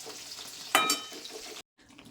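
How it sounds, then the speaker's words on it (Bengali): Chilli chicken pakoras frying in oil with a soft, steady sizzle, a brief clattering burst partway through, then a sudden cut before the sizzle resumes faintly. "আর একটু আছে, এগুলো একবার ভেজে নিই।"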